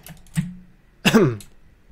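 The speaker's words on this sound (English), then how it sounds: "Cough." A single short cough from a man during a Minecraft building session, followed by a brief throat sound, close and fairly loud, with faint keyboard-like clicks before it.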